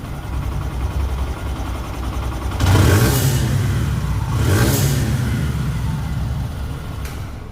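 Close idling of a used Hero Xtreme motorcycle in showroom condition, broken by two sharp throttle revs that rise and fall back to idle, loud with no talking.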